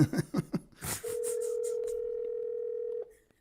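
A steady telephone tone holds for about two seconds after a few quick bursts of talk, then cuts off abruptly, leaving near silence.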